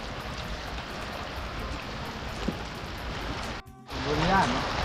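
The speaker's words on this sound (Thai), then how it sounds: "ฝนตกๆนี่ละ" Rain falling outdoors beside a village pond where fish are caught with a lift net: a constant hissing patter that dips briefly near the end, with faint voices.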